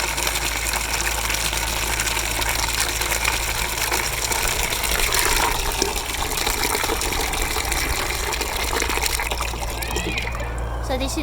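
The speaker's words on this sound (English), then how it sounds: "We need to water the seedlings." Water poured onto horticultural seedlings rushes and splashes in a steady, continuous flow, close and fairly loud throughout, with a low hum beneath and no clear speech.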